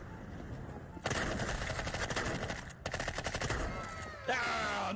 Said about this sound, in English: Yeah, Nova Shotgun, let's go.